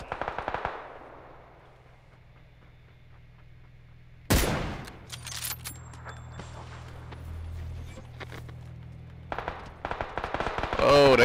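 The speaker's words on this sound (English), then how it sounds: "Oh, they shooting at us." Enemy gunfire in a PUBG battle royale match: loud bursts of automatic fire around 4.5 seconds and again near 9.5 seconds, with sharper cracks at the end and a low steady game hum in between.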